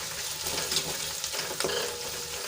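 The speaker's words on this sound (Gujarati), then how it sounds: "હવે સરસ રીતે મસાલા આપણે મિક્સ કરી લઈશું" Garam masala and coriander-cumin powder sizzle and crackle as they are stirred and fried in a pan, a steady hiss punctuated by faint scraping, heard alone without talk.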